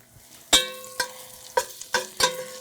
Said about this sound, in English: I'm turning this down now to add my aromatics and into the bacon fat.